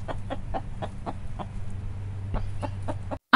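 A farmyard hen clucks in a steady run of short, evenly spaced clucks, fairly close, over a low background rumble before a sudden loud cut-off at the end.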